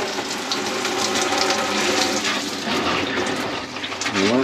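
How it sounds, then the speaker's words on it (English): Water drains from the shower of a motorhome being winterized, a steady loud rushing and gurgling flow that continues throughout. "water out of the shower and let it drain."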